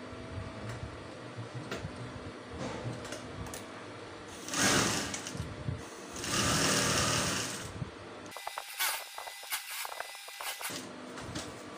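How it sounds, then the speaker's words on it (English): A sewing machine stitches a half-inch seam on three-quarter trousers, running in steady buzzing bursts with louder stretches and brief pauses, heard up close with no talking. "So I'm going to sew with ½ inch."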